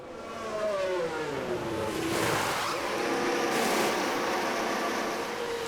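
A Formula 1 race car in the F1 Manager 2024 video game, a steady engine whine with rising and falling harmonic pitch as the car slows into the pits, a constant loud drone with a brief whoosh midway and no talking.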